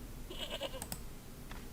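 A goat stuck in Broken Sword: Shadow of the Templars gives a short, quavering bleat, followed by a couple of quick clicks and a faint later bleat, heard alone without talk.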